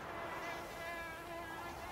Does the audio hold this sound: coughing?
no